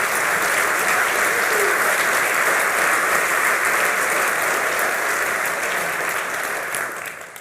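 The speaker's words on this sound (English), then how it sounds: "Give him a big round of applause, if you could stand up" Applause from a seated audience at a university opening ceremony, a loud, steady wash of many hands clapping that holds for several seconds before tapering off at the end.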